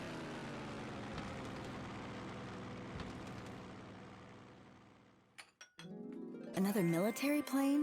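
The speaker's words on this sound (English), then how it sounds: "Another military plane?" Military plane roaring past in the video game Labyrinth of Galleria: The Moon Society, a broad rumble that fades out, followed by chiming game sounds.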